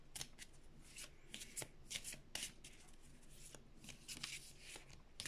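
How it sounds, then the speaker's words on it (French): Oracle cards being shuffled by hand, a quiet, close run of papery riffles and slaps in an irregular rhythm, repeated throughout with no talking over it. "je vais ressortir un peu des cartes de l'oracle du miroir"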